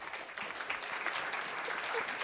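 Audience applause fills a hall at a Women in Tech hackathon finals, a steady dense wash of many hands clapping at moderate distance, with faint voices mixed underneath.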